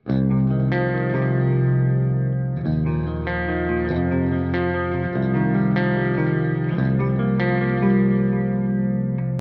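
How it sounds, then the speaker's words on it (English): Sustained electric guitar chords through a Mesa/Boogie JP-2C amp ringing with a shimmering chorus and layered dual delay repeats, new chords struck every couple of seconds, full and continuous with no talk. "Channel A is essentially set up as a dual delay with a chorus."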